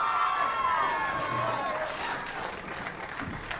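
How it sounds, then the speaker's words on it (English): A loud crowd fills the gym at a boys basketball state final, a continuous roar of cheering and clapping with a voice talking over it. "Got a loud crowd here bright and early on this Sunday morning."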